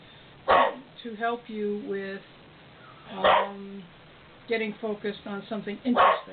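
A house dog barks and yips in several short bursts, some whimpering, mixed in with a person talking calmly indoors nearby.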